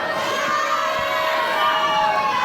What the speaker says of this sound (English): he almost appears to be enjoying the crowd's booing, the negative reaction they're giving him